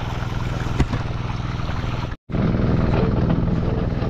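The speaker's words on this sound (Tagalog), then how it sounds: "Iwanan ko na lang umaandar yung makina." An engine-driven irrigation water pump on a farm runs with a steady, loud, droning rumble, close by, broken only by a brief dropout midway.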